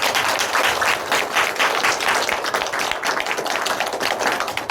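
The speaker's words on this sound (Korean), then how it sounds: "하나님께 영광의 박수를 드립니다" A congregation applauds during a Sunday morning church worship service, a steady dense wash of many hands clapping together that fills the whole moment at even loudness, with no talking over it.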